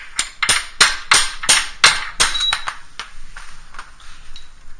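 A hammer strikes a wrench on a Honda Civic DX hatchback's suspension, giving a quick series of sharp metallic clanks that slows into lighter, fainter taps, close by.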